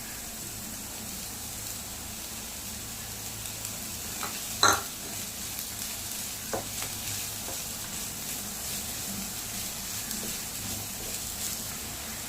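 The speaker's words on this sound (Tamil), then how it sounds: "வெங்காயம் நல்லா ப்ரௌன் கலரில் வர வரைக்கும் நம்ம நல்லா வதக்கிக்கலாம்." Three chopped medium onions fry in hot oil for an egg masala, a soft continuous sizzle with occasional scrapes and one clear utensil clink against the pan, no talking.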